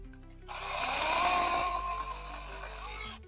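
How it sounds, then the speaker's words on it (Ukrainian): A PRO-CRAFT PKA46 cordless saw cuts through cherry plum wood, a close, loud buzzing whine that starts abruptly, strains as it bites into the wood for about three seconds, then cuts off. "на аличі хоч попробую, чи вона ріже"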